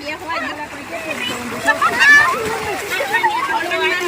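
Water splashes and sloshes continuously while children and adults chatter and call out nearby, a lively outdoor picnic bathing scene with overlapping voices.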